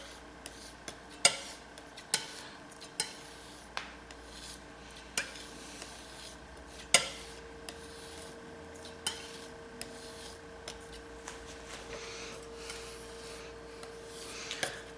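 Palette knife mixing burnt umber and ultramarine oil paints on a palette, a soft steady scraping and smearing with repeated sharp taps of the blade, close and quiet with no talking.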